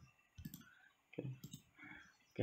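A computer mouse clicks repeatedly in short, sharp bursts at an irregular pace while CAD software is being used, close and fairly quiet.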